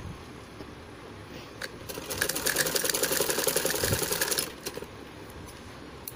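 A sewing machine runs for about two and a half seconds while stitching lining onto the upper part of a baby frock, a fast steady mechanical whir set between quieter handling noise.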